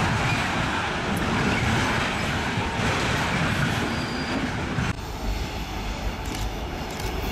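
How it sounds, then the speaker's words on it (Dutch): Container train hauled by two old locomotives in double traction passing close by, a loud continuous rumble with wheel squeal and clatter that shifts abruptly partway through; no voices. "Met wederom 2 van die oude beestjes in dubbele tractie voor deze containertrein"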